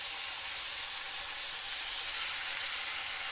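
Ridge gourd pieces frying in a pan, an even, close hiss of sizzling oil that holds steady throughout with no voices.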